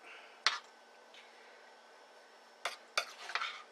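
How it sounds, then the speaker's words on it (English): A spoon scrapes and clinks against a pot of thickening chicken sauce in a few short, sparse strokes, close by, with quiet pauses between them. "Start stirring it in."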